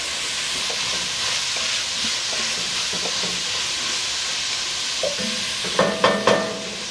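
Poblano peppers and onions fry in a pot for a brisket chili, with a continuous moderate sizzle, occasional stirring scrapes and a few sharper clatters near the end.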